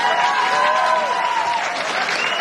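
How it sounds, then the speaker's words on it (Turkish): Steady applause from a gathering of about 300 people, dense and continuous with a tonal hum or voices running beneath the clapping throughout. "alkışlar"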